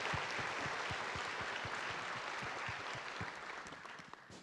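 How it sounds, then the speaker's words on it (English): An audience applauds a speaker at a talk on building trust, a steady, fairly soft patter of many hands clapping with a few sharper individual claps standing out, fading slightly toward the end. "Let's give her a round of applause."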